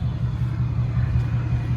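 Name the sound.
old truck engine starting and running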